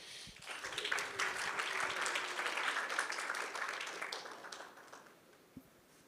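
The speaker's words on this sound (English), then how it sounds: "So round of applause for Forrest, please" Conference audience applause at a Devcon breakout session: a room of listeners clapping steadily for several seconds, swelling quickly and then tapering off to a few last claps.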